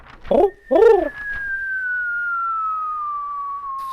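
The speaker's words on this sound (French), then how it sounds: "Les pigeons voyageurs transportent les produits frais." Two soft, throaty homing pigeon coos sound close by, followed by a long, steady whistling tone that slowly falls in pitch.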